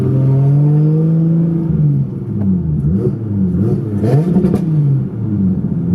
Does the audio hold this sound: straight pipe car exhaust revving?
yes